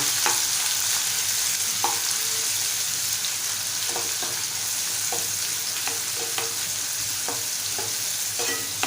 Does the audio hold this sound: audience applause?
no